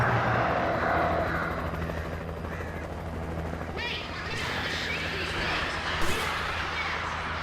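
A helicopter rumbles steadily through the video game Alan Wake Remastered, a loud continuous rotor drone mixed with other game noise and brief sharp bursts.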